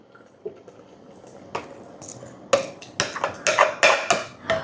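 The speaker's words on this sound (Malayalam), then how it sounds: "നമ്മൾ അടിച്ചെടുത്ത് നമ്മുടെ നാളികേരം ഉണ്ടല്ലോ, അത് തൈരും കൂടിയിട്ട് അടിച്ചത് അതിലേക്ക് ഒഴിച്ചു കൊടുക്കാം" A blended mixture of ground coconut and curd being poured into a pot for a sadhya-style kurukku kaalan, heard as soft wet splashes and patters that grow louder and thicker toward the end, close by with no talking.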